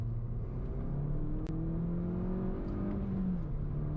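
A Mini John Cooper Works R55 engine drones and rises through the revs while driving, its exhaust note steady and close, with shifting tonal whine and no talking.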